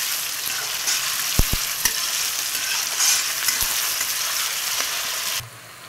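Onions frying in oil in a pan, a continuous bright sizzle with a few brief knocks and scrapes of stirring, dropping quieter near the end.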